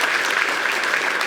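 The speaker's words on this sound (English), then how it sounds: "Give him a round of applause." An audience at a university basketball coach's introductory press conference gives a round of applause, loud, dense and continuous from start to finish.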